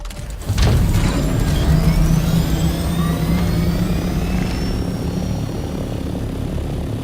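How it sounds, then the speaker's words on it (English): A video-game helicopter spools up after a brief start, then a loud, steady rotor and engine drone holds with a whining tone sliding in pitch as it flies. "So I'm gonna take the helicopter and fly and go to a spot and go get cobalt."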